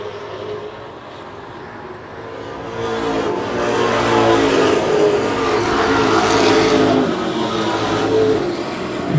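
Pro stock race cars thunder around an oval track in a loud, continuous engine roar that swells as the pack passes close. Exhausts drone and overlap with no voices on top.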